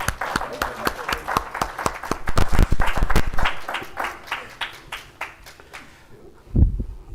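Audience at a live-streamed digital conference event claps for a speaker, a burst of applause that swells and then thins into scattered claps, with a final louder flurry near the end.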